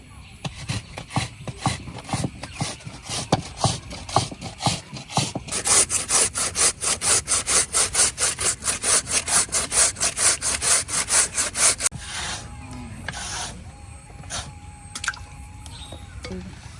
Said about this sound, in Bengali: এই যে আমি সম্পূর্ণ পেঁপেটাই কিন্তু কেটে নিছি